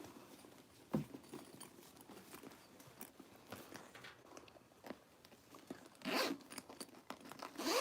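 A zipper on a newly sewn canvas-style tote bag, a few quick close zips and rustles of fabric and hardware, louder bursts near the end, with no talk.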